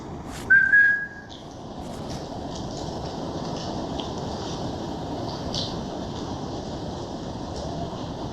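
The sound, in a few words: person whistling in a railway tunnel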